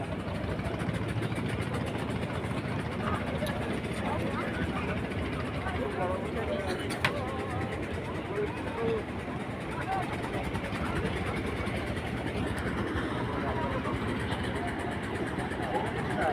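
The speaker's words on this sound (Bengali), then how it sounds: "আপনারা দেখতে পাচ্ছেন ট্রলারগুলো সব ছেড়ে ছেড়ে চলে যাচ্ছে" Fishing trawlers pulling away from a Bay of Bengal island at the close of a seaside fair, their engines a steady low rumble under constant crowd chatter and wind for the whole stretch.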